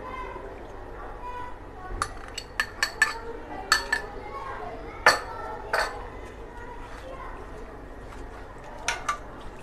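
A spoon stirs chicken marinade of milk, beaten eggs, red chilli sauce and Maggi masala in a bowl for chicken popcorn, giving a dozen sharp, irregular clinks against the bowl, close and moderately loud, over a low steady background hum.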